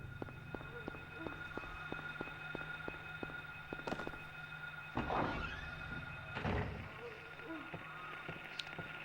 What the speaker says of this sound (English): this certainly wouldn't be Silent Hill without completely inoperable doors